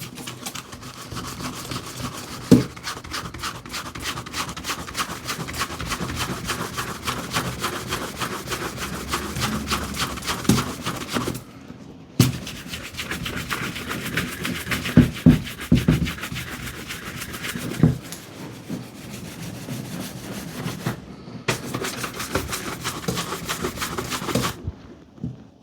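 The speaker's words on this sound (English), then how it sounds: "we're using the surface of the brush and giving it a gentle buff." A shoe brush buffs the surface of a cheap secondhand Loake leather shoe, a steady rapid scratchy rubbing that runs almost continuously, broken by a few short pauses, close and alone.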